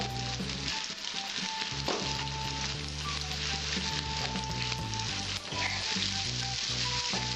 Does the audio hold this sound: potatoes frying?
yes